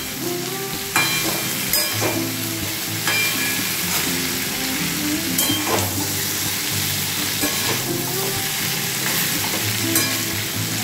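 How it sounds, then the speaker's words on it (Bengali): Potatoes fry in oil with turmeric, making a loud, continuous close-up sizzle broken by repeated scraping stirs of a spatula in the pan. "আলুগুলো আর একটু লাল করে ভাজা হোক"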